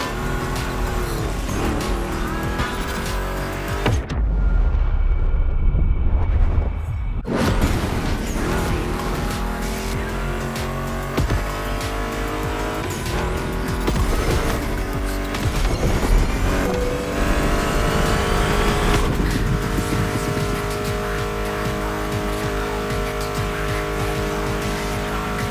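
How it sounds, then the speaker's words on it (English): Race car engines roar in The Crew Motorfest video game, a loud continuous drone with rising and falling revs and tire squeals, briefly dropping to near silence for a few seconds before surging back at full volume. "Meshes well with the sound of the engines, you feel me?"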